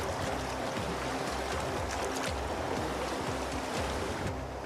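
Powerful rushing water of the Bermejo river on the Argentina–Bolivia border, a loud, continuous broadband roar with surging turbulence, heard close and steady throughout without talk.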